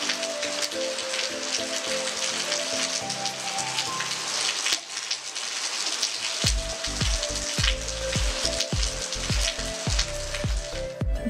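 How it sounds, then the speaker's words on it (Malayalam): Heavy rain falls in a dense, steady hiss across a yard, loud and unbroken, with music playing over it throughout. "ഇപ്പം മഴയാണ്, നല്ല മഴയാണ്"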